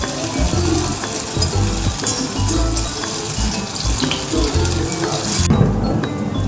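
Khandeshi phunke shallow frying in a spoonful of oil, a dense, loud, continuous sizzle and crackle close by, with occasional clinks of a utensil against the pan.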